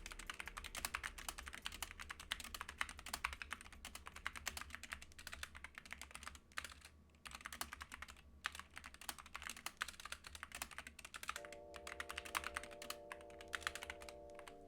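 Rapid, continuous clicking of keys on a computer keyboard, close up and fairly quiet, with a faint steady hum underneath.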